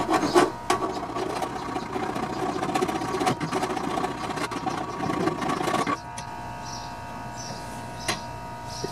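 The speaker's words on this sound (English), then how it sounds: "Try the file first because I don't want to take too much of it off." A hand file rasps back and forth on the metal of a Poulan Pro lawn tractor mower deck in rapid, rough strokes for about six seconds, then stops, leaving a quieter hum and a few light knocks.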